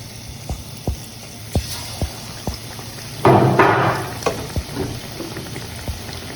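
Battered jackfruit pieces sizzle in hot oil over a medium-to-high flame, with a steady frying hiss that swells loudly midway as more pieces drop in, punctuated by regular light taps and clicks close by.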